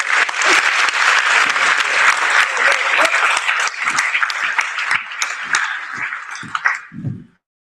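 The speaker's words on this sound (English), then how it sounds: "Let's have a round of applause for our" Crowd applause at a high school NJROTC change of command ceremony, loud dense clapping that gradually thins to a few scattered claps and a brief voice before stopping.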